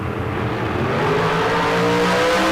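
A drag racing car at a bracket race roars loud and close down the strip, its engine note rising steadily as it accelerates, with no voices.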